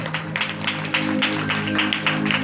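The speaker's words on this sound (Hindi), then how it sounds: "जोरदार ताली बजाइए" A congregation at a Wednesday healing prayer meeting applauds, giving a steady wash of clapping that swells after the first second over sustained keyboard-like tones.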